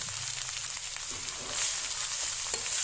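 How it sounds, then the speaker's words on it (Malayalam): Chopped drumstick leaves sizzle hard in a hot pan as they are tossed and cooked without water, a loud, continuous frying hiss with a brief stir near the end and no voices. "മുരിങ്ങയില കൊട്ടി ഇളക്കണം. വെള്ളമില്ലാതെ നമ്മൾ വേവിച്ചെടുക്കണം."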